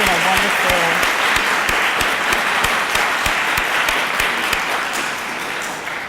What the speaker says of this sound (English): Can we just give all of our performers another round of applause?